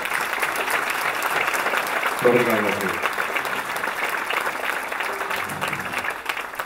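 Applause from the audience at a fado singers' gathering on Faial island, a steady crowd clapping underneath as someone speaks briefly over it near the middle.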